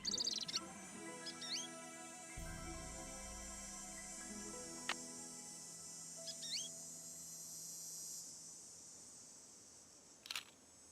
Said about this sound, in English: Goldfinch. American goldfinch.